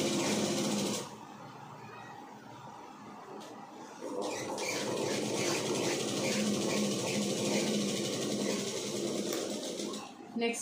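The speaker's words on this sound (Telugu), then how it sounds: "అప్పుడు ఈ లోపల ఫస్ట్ ఒక స్టిచ్ వేసేస్తాం ఇక్కడ." A sewing machine stitches chudidar pants fabric in a tailoring session, a steady close mechanical whirr that starts, pauses briefly, then runs for several seconds before stopping.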